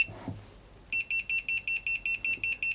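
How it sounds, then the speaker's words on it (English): An electronic finger-detecting pruner beeps in a rapid, steady series of about a dozen loud, evenly spaced high-pitched tones after a brief low handling sound, with no talking. "It warns you if you're touching it by beeping crazily."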